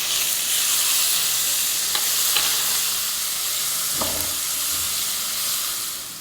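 Garlic paste frying in hot oil with white cumin and fenugreek seeds for pakora kadhi, a steady close sizzle with occasional stirring scrapes, no talking.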